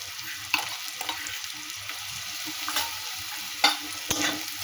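Ginger, garlic and dried chili sautéed in a pan for a pea and potato curry, with a steady low sizzle broken by occasional spatula knocks and scrapes against the pan, close and without talking.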